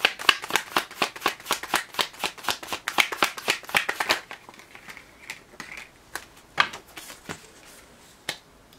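A deck of tarot cards being shuffled: a rapid run of crisp riffling card flicks for about four seconds, then a few scattered, softer taps and slides of cards, close and alone without talk.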